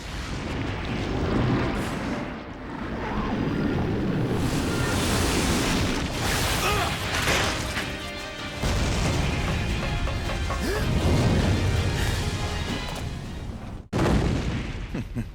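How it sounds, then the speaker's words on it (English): Linear launcher shots fired at the flying Alexia in Resident Evil Code Veronica X, heavy booming blasts and roaring rushes of energy over dense game noise, with a sharp cut near the end. "Using the linear launcher, eventually, one of the shots lands."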